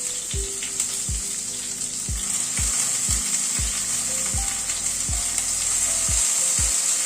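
Halved tomatoes frying in a pan, a constant close sizzle with a string of sharp taps from a utensil scraping and settling them, no voices.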